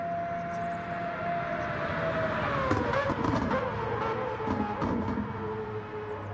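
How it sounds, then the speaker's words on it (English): A Mazda race car in a Gran Turismo 7 replay at Circuit de la Sarthe (Le Mans) sounds its engine as a sustained tone that slowly drops in pitch as it passes, then fades under rising broadband noise. "The Mazda does sound beautiful. Let's listen to it here."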